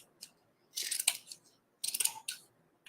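Scissors snip through frayed ribbon fabric at a craft table, two separate bursts of crisp, close cutting strokes with quiet pauses between them.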